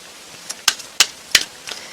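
Tarot cards being shuffled close up, giving sharp papery snaps in a loose, uneven rhythm, about four distinct taps over a faint background with no talking.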